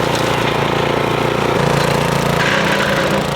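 A big brush mower engine runs steadily while clearing land over small branches, a loud, close, continuous drone with a rough throbbing pulse throughout.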